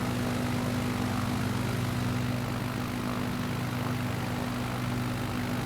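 A propeller plane's engine drones steadily in Microsoft Flight Simulator 2020, a constant, even hum with a low buzzing tone, loud and unbroken, without speech.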